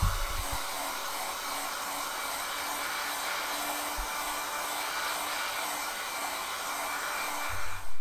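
Hair dryer running on its low first speed to cure epoxy paint on a Renault R5 Alpine Turbo engine, a steady close whooshing drone that holds evenly throughout with a faint hum underneath and brief knocks near the start and end.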